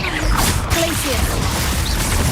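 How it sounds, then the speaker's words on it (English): A Glacius ice spell is cast in the Hogwarts Legacy video game during a busy duel, giving a short crackling whoosh and smash amid a dense, continuous mix of combat effects. "Glacius."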